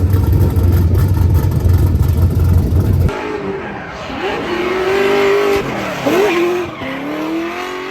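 Race cars at the TX2k drag and roll racing event at night: a loud engine roar that gives way to screeching tire squeals and revving passes, close and continuous, with no talk.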